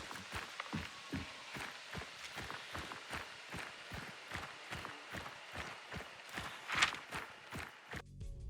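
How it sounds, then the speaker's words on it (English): Footsteps in the game Hunt: Showdown, a fast regular run of thudding steps, two walkers overlapping in a steady rhythm, with a sharper scrape near the end. "There are two sets of footsteps there."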